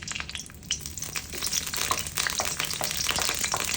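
Garlic sizzling steadily in hot virgin olive oil in a pan, a loud continuous crackling fry with faint stirring scrapes, no talking.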